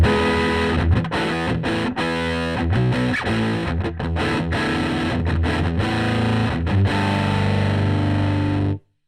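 Electric guitar played through a Sunn 100S amplifier with a Rat distortion pedal grinds out heavy, saturated slash chords in a driving rhythm, loud and close with no talking, before cutting off abruptly at the end.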